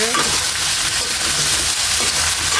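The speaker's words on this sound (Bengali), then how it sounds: "আমি এখন সরিষার বাটা আর সরিষার সরিষার তেল দিয়ে ভালোভাবে ভেজে নিচ্ছি" Mango pieces fry in mustard paste and mustard oil, a dense continuous sizzle with stirring scrapes close up and loud throughout.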